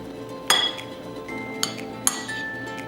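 A metal spoon scrapes and scoops ripened banana flesh from its peel, giving a few sharp clinks and scrapes against a quiet kitchen background.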